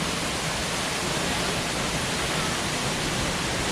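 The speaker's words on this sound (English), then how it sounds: "A waterfall!" A steady, broadband rush of falling water roars without a break, dense and constant.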